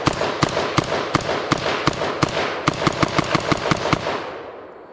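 Colt M4 Commando 11-inch rifle firing steel-cased ammunition in a test, a steady run of about twenty sharp, loud shots in quick semi-automatic rhythm, each with a ringing tail, fading out at the end.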